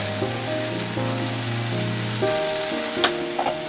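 Ivy gourd sautés in a pan for chutney with a steady, even sizzle and a faint hum underneath. A couple of small clinks near the end sound like stirring, and no one speaks.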